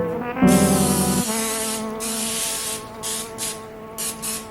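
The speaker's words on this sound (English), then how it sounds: "And then spray it with some cooking spray." Cooking spray hisses onto a parchment-lined baking pan in one steady burst lasting under a second, then fades into quieter kitchen noise.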